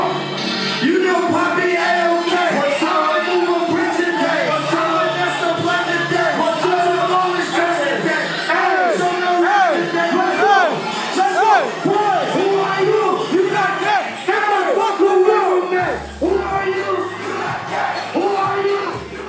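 A concert crowd cheers, yells and whoops in a loud, continuous roar that stays dense and steady throughout, with the noise shifting slightly near the end.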